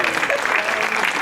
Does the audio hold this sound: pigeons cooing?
no